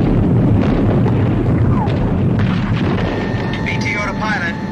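Anti-aircraft flak bursting around a bomber in flight over a continuous heavy roar of aircraft engines, dense and loud throughout, with a faint tone and radio chatter near the end.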